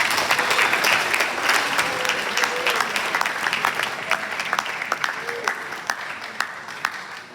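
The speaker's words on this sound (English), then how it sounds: "round of applause for yourself." An audience in a chapel applauds, a full burst of many hands that gradually thins and fades, with scattered individual claps standing out toward the end.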